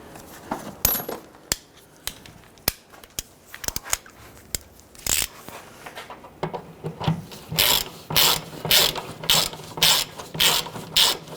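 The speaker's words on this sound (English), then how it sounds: "we're going to use our socket and we're just going to thread it in a few more threads to secure it into place" A socket ratchet clicks as it threads a ball joint bolt into a 1999-2004 Jeep Grand Cherokee rear upper ball joint, first in scattered single clicks, then in a steady run of loud, close ratcheting strokes.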